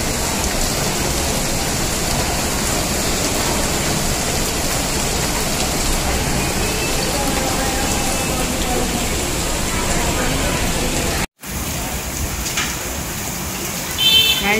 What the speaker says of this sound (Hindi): तो गाइस हमारे यहाँ पे हो रही है बारिश